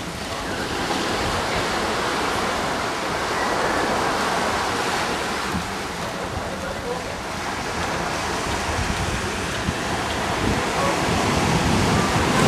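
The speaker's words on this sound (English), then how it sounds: "Today we're on Tortola and the beach is Brewers Bay." Waves washing onto the beach at Brewers Bay on Tortola, a steady broadband surf roar with gentle swells in loudness, mixed with some wind noise.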